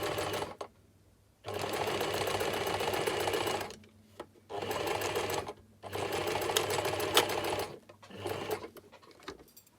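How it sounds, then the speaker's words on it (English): Sewing machine stitching fabric down a seam in several bursts of rapid mechanical whirring, separated by short pauses, close and clear with no talking. "I'm going to sew all the way down"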